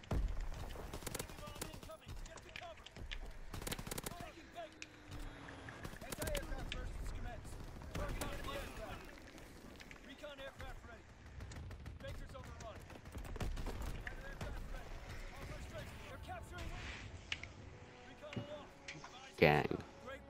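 A Sten submachine gun firing in a video game, with repeated bursts of rapid shots scattered across the stretch and a sharp louder burst near the end, often under a player talking.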